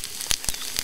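Fried potatoes with bacon and onions sizzle in a pan over an outdoor fire, giving a steady close hiss with a few sharp crackles.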